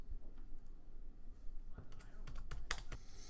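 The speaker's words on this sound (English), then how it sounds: "I'm going to type what most people will type on their first Twitter account." Quiet, soft typing on a computer keyboard while entering a tweet, a steady patter of light key clicks with a few sharper taps near the end.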